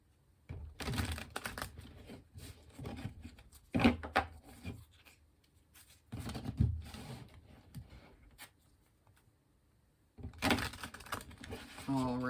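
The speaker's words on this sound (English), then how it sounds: "Let's do some shuffling." Tarot cards from a Mermaid Tarot deck being shuffled by hand in several separate rustling, flicking bursts, close to the microphone, with quieter pauses between them.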